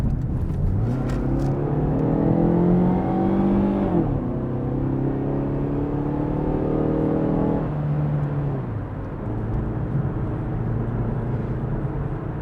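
Steady engine drone of a Chrysler PT Cruiser driving on a road on cheap tires, with rising and falling harmonic tones as it accelerates through gears and shifts, continuous and close from inside the cabin, with little wind or road noise.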